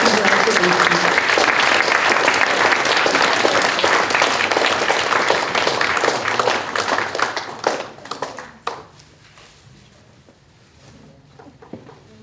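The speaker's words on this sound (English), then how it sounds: "Please join me in a round of applause for a remarkable career and an even more remarkable person." An audience applauds at a retirement tribute during a school committee awards ceremony: loud, dense clapping that thins out and fades to scattered claps, then quiet room sound.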